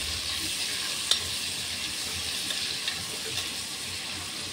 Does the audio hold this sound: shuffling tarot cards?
no